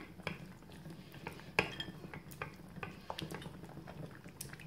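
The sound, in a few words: stirring melted chocolate in a saucepan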